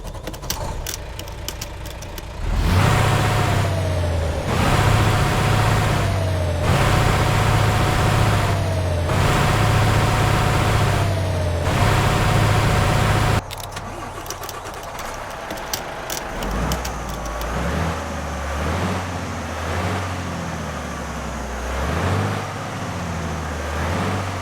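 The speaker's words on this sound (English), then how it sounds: "Now pair all of this with the Volvo VNL 2025 Improved Engine Sound mod" Simulated Volvo VNL 2025 truck engine in American Truck Simulator, a deep steady diesel drone with rising and falling revs and gear shifts, loud and close, changing midway to a rougher, lower rumble with clatter and road noise.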